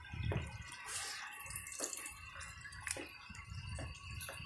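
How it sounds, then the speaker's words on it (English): Water forced through a badly clogged 2002 Eljer Patriot toilet with no plunger, a continuous splashing gush broken by irregular drips and sloshing bursts, close and moderately loud. "I guess I'll just have to blast water through it."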